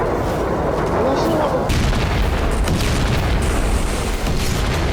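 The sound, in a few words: ballistic missile launched from an Iranian warship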